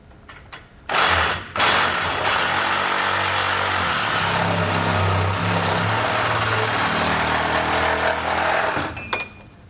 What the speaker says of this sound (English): So what I'm going to use is a Sawzall.